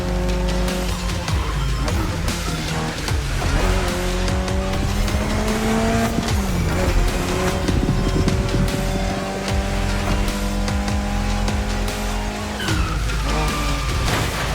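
A Mitsubishi Lancer Evolution X, the final Lancer Evolution, drives in The Crew Motorfest, its engine loud and steady with rising and falling revs through gear changes, plus bursts of tire squeal, continuous over the whole stretch.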